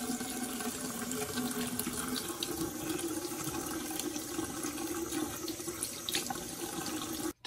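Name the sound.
water running from a Tosca widespread bathroom faucet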